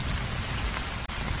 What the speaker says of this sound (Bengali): এ হলো কালবৈশাখী ঝড়